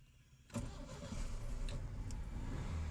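A 1968 Volkswagen Beetle engine, freshly fitted with a new battery, cranks and catches abruptly, then settles into a steady, loud rumbling idle close by with no talking.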